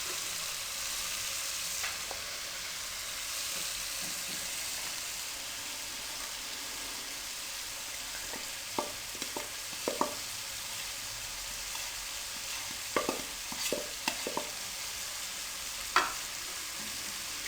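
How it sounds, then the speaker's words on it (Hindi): Chicken frying in a pan for Chinese rice, a steady soft sizzle with scattered clinks and scrapes of stirring toward the end. "अब चिकन हमारा अच्छे तरीके से फ्राई हो चुका है।"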